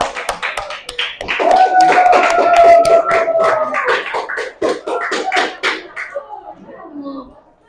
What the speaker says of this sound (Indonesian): Beri aplaus dulu tawa.